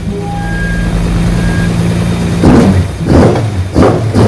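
A Charger's 265 Hemi six breathing through Jenvey triple individual throttle bodies with Megasquirt idles with a steady loud hum, then snaps into three sharp, close revs, each rising and falling quickly.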